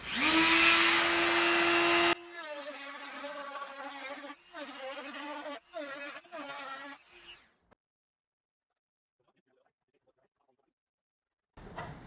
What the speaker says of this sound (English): quick Dremel cut just to get rid of the lip